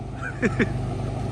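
A couple of short duck quacks sound over a steady low engine rumble in a rice field, brief and moderately close.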